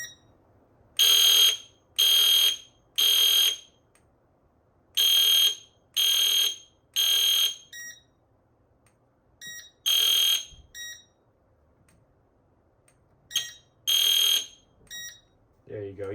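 EST Fire Shield fire alarm system horns blare in loud, steady bursts about a second long, sounding in groups of three with short gaps, then falling silent and returning in a few more scattered bursts.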